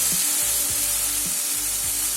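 Spice paste for a quail egg curry fries loudly in a pan, an unbroken close sizzle broken by a few soft spatula scrapes as it is stirred, with no voices.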